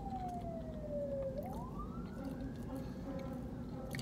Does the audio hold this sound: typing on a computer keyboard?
no